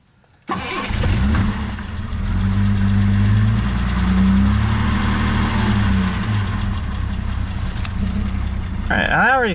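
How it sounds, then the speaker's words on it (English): A classic daily-driver car engine with the choke half on cranks and catches, then settles into a loud, steady idle with a slightly uneven rumble close by. "let's see how it starts up."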